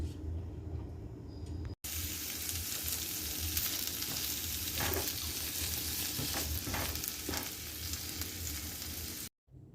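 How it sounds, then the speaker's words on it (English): Broccoli warming in a hot pan, a steady close sizzle and crackle of frying that keeps going for nearly ten seconds with a few faint stirring scrapes and no voices. "I'm gonna warm the broccoli up first before I put the cheese in there."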